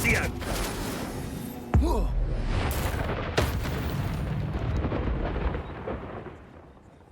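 Incendio fire spell cast in the video game Hogwarts Legacy, a sharp whooshing burst of flame with booming impacts and rumbling layered over a spoken incantation.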